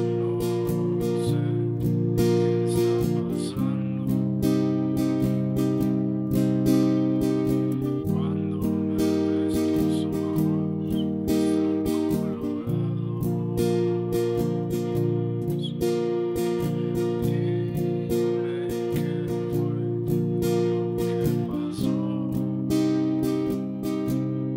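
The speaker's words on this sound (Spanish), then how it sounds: "Vamos con una demostración de las estrofas y suena así." Strummed acoustic guitar playing the verse chords of a song in a steady repeating strum pattern, close and even in level, with no voice over it.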